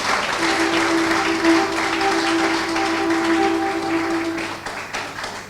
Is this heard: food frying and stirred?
no